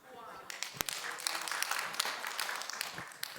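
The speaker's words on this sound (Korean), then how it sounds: "박수." A church congregation at a Friday evening revival service breaks into brief, scattered clapping, sharp distinct claps rising to a moderate patter, faint and roomy, with voices murmuring underneath.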